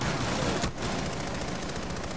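Gunfire in the Rainbow Six video game, a dense burst of shots with a sharp loud crack partway through, over continuous busy game noise with no talking.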